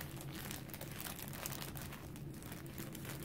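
A plastic yarn bag is torn open, a faint, continuous crinkling and rustling of thin plastic heard up close, with no talking.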